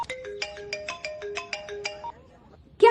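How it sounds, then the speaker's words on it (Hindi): A phone rings for an incoming call, a bright repeating melodic ringtone pulsing rhythmically for about two seconds before cutting off, followed by a brief louder sound at the very end. "भैया का फोन आ रहा है।"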